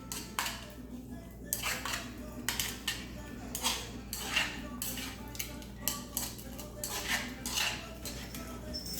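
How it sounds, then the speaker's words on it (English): Raw shrimp with salt is stirred in a bowl with a metal utensil, producing repeated clinking and scraping strokes in an uneven rhythm, close and moderately loud over a low background hum. "I'm going to stir this up."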